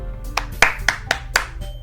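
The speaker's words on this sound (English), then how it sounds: "Sayori finishes and we applaud." Brief applause in the Doki Doki Literature Club video game, half a dozen sharp, evenly spaced claps over a soft sustained background tone.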